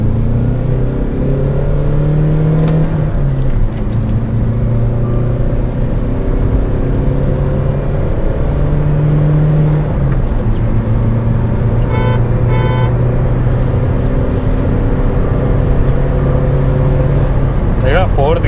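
Hyundai Creta diesel SUV cruising at high speed in fourth gear, its steady engine drone and road noise continuous throughout, with someone talking over it.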